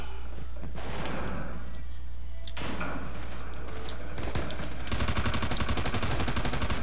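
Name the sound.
flash grenade going off in a PS4 video game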